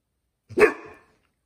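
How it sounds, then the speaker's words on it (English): A single short dog bark, loud and close, in an otherwise quiet room during knife disassembly. "No barking."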